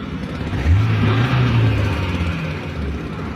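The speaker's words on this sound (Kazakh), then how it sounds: "Оборот плавно көтеріліп, плавно түсіп жатыр." A VAZ 2114 car engine, just repaired after a rich-mixture fault, revs up and settles back down smoothly in a steady low drone, close by and fairly loud, with no talking.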